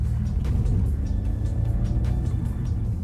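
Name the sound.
Ford Mustang Mach-E GT propulsion sound, low rumble accelerating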